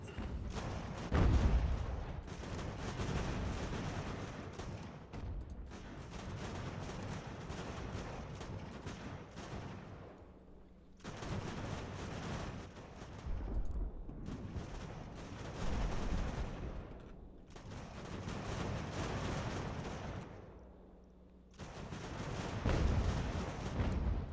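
Artillery in the strategy game Ultimate General: American Revolution booms in repeated heavy volleys, sustained rumbling bursts separated by brief lulls, loud and continuous across the battlefield.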